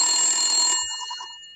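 A telephone bell rings in one bright, sustained burst lasting under a second, then its tone fades out quickly.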